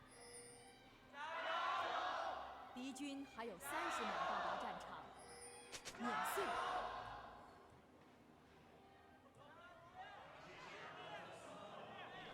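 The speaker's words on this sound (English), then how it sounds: "Love to hear the crowd already getting into it in Suzhou." Esports arena crowd in Suzhou at a League of Legends LPL summer playoff semifinal, Top Esports versus Weibo, cheering and roaring in loud swells with a big burst early, under a caster's voice.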